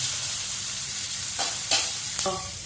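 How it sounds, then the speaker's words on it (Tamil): Onion, curry leaves and green chillies sauté in a pan with a steady close hiss and sizzle, broken by a few quick scrapes of the spatula toward the end, with no talking. "கருவேப்பிலை வெங்காயம் பச்சை மிளகாய் எல்லாம் போட்டிருக்கேன் போட்டு நல்லா வதக்கணும்"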